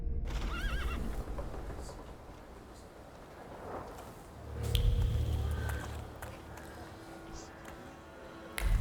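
A horse whinnies, then hooves clop along with rustling movement, game-like ambience underneath, near a cemetery in the video game The Thaumaturge.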